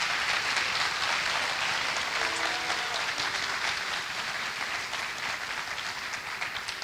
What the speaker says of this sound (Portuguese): E nós queremos dar a você uma salva de palmas, porque você merece.